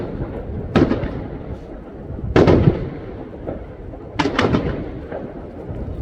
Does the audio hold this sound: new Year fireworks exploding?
yes